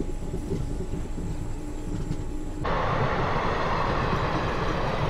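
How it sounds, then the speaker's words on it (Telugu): Simhadri Express train passing at Gudivada Junction, a loud, steady broadband rumble and rush of wagons that swells and stays full near the end, with no talk over it. "ఇప్పుడే మనకు వచ్చేసి సింహాద్రి ఎక్స్ప్రెస్ ట్రైన్ అయితే వెళ్తుంది విశాఖపట్నం గుంటూరు"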